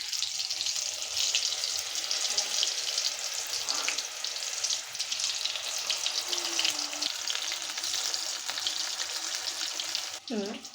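Mustard greens fritters fry in hot oil, a steady loud crackling sizzle running throughout with small pops and a brief clink near the end.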